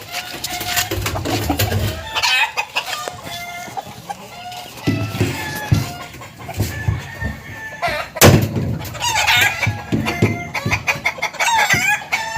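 A rooster crows repeatedly near and loud, mixed with clucking chickens, while people talk in the background around a fuel tank pulldown job.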